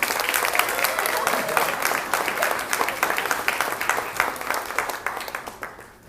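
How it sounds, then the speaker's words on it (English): Graduation audience applauding a valedictorian stepping up to the podium: a dense, even patter of many hands clapping, held steady and then thinning and fading toward the end. "Give him a round of applause."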